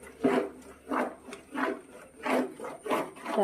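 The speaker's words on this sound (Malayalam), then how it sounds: "കണ്ടില്ലേ നല്ല രീതിയിൽ എല്ലാ വശത്തിനും ഇളക്കി ഇളക്കി കൊടുക്കുക" Thick jackfruit preserve being stirred in a heavy thick-bottomed pan, giving a rhythmic series of about six soft scraping rubs, close and fairly quiet.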